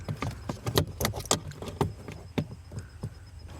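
A socket wrench loosening 8mm bolts on a Ford blower motor resistor, a run of sharp metallic clicks and ratchet taps in an irregular rhythm, close up and with no talking.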